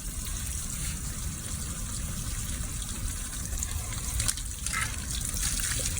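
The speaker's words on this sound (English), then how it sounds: "Want to rinse the back side of it, get all the soap out." Running water from a hose or tap rinses soap off a leather western saddle, a steady close gush and splash throughout, with no one talking.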